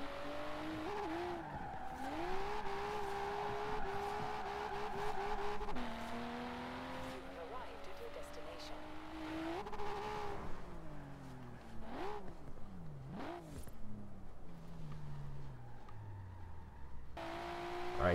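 A Nissan R32 GTR with a Rocket Bunny kit drifting in rainy Forza Horizon 4 gameplay: a sustained engine whine rising and falling between gear changes, with repeated bursts of tire squeal and a player talking faintly underneath.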